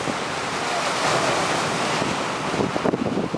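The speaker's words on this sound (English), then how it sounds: "Too damn many waves out there to bother the dog." Ocean waves break and wash onto a dog beach near Ocean City, New Jersey, a steady loud roar of surf with gusting wind buffeting the microphone.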